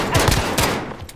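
Gunfire in a video game: a few quick, punchy shots clustered near the start and one more burst just after half a second, close and fairly loud, with game ambience trailing off afterward.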